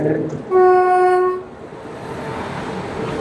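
An oncoming train on the opposite track, a WAP-7 electric locomotive running Erode–Tirunelveli to Bilaspur, sounds one loud, sustained horn blast of about a second close by, with rumbling rail noise continuing after it fades.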